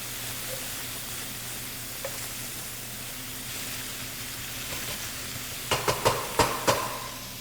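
Onions and garlic sweat gently in a pan, a soft low sizzle under a steady hum, then a few sharp utensil clinks near the end.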